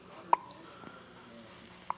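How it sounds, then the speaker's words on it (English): A five-week-old baby boy hiccups during tummy time: two short, soft hiccups, one early and one near the end, faint against a quiet room. "Oh, now you got hiccups."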